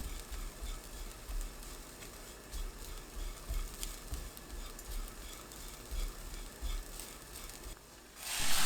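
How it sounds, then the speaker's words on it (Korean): Anchovies and minced garlic stir-frying in cooking oil in a pan over medium heat, a steady soft sizzle with light crackle and patter throughout, growing louder in the final second. "멸치 넣고 중불로 1분 더 볶습니다."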